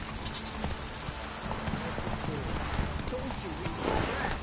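Hoofbeats of the horse Roach in a video game, a steady clip-clop of galloping hooves running through the whole stretch under a busy mix of game sound and a voice talking.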